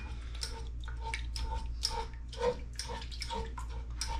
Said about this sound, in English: Once I do that, I'll add some water